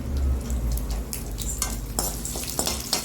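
Ginger, garlic and whole spices frying in a pan for chana masala gravy: a steady, loud, close sizzle with scraping stirring and occasional utensil clinks against the pan.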